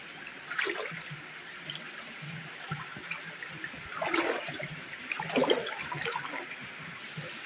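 Clear stream water at the Akoulize oasis in Tata flows and trickles close by, with a steady low gurgle and a few brief splashy surges, heard alone without talk.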